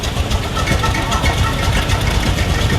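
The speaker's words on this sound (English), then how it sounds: "104 has burst into life with a great stinker exhaust smoke" A veteran car, number 104, runs at the start of the London to Brighton Veteran Car Run 2021, its engine chugging loudly and unevenly nearby amid outdoor crowd noise.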